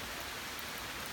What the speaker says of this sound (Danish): Det begynder at regne lige nu her